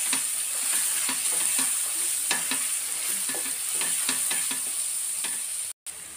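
Garam masala and chicken masala fry in a pan for fried chicken curry, giving a steady close sizzle with repeated scraping stir strokes throughout and a brief dropout near the end.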